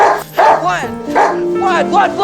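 A dog yips and whines in short, high, emotional bursts close by, alternating with someone speaking in a low voice.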